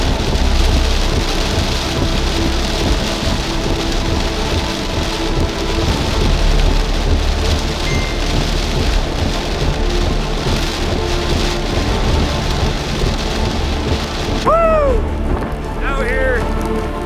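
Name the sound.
hurricane Beryl storm with rain and surf at a beach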